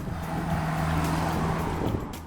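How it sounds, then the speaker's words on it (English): A Maruti Suzuki XL6 MPV's engine drones steadily and boomily as it accelerates, a continuous low hum heard close from inside the cabin with no talk over it. "press on the accelerator, and all you'll be greeted with is the boomy sound of the engine"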